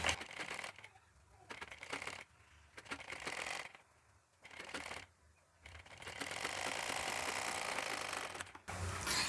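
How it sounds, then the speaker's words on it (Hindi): A sewing machine stitches a lined blouse in short bursts of rapid mechanical whirring, separated by brief pauses, before a longer continuous run near the end. "अब हम सिलाई लगा लेंगे इस पर।"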